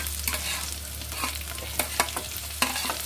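Chopped garlic frying with leafy greens in a pan, a close sizzle over a low hum, with several sharp scrapes and taps of a spatula stirring toward the end, no voices.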